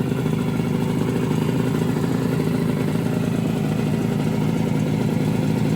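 Suzuki GT250 two-stroke motorcycle engine running steadily at idle, a loud close rattling buzz with fast even pulses and no pauses, no talk.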